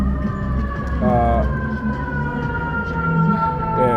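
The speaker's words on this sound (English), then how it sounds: "fire truck." A fire truck siren wails past, its rising and falling tones steady and loud over continuous traffic rumble, with a person talking faintly in the background.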